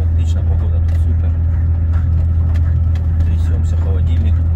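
A Volvo FH 540 truck's refrigerator unit rattles steadily under a loud, continuous engine drone while driving along a rough road on the Lena highway to Yakutsk.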